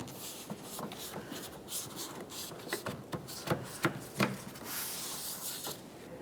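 A rubber strip is worked into place on a 2006-2011 Honda Civic during a wiper transmission replacement, giving close rubbing and squeaking with irregular soft taps and scrapes, quiet and without talk.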